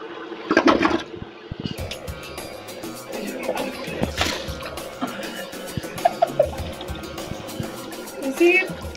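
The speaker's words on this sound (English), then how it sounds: "Okay, flush it." A toilet with a bidet attachment installed flushes in a home bathroom, with water rushing and gurgling for several seconds while people talk over it.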